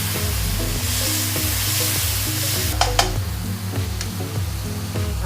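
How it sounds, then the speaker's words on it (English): Pork chops sizzle steadily in a wok as cooking wine is poured in, giving a continuous loud frying hiss with a couple of sharp spatters near the middle, no voices. "Now we can add our cooking wine."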